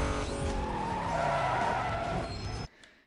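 A car in Need for Speed Most Wanted screeches and roars as it accelerates, tires squealing loudly over a rising engine whine before the sound cuts off abruptly near the end.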